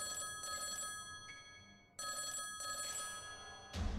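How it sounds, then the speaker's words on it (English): A telephone rings in short repeated bursts, two clear rings with a pause between, moderately quiet in a room, followed by a brief low thump at the end. "Right then my phone starts ringing again."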